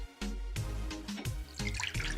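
Water poured into a hookah base, a close, steady gurgling and splashing stream with brief breaks between pours.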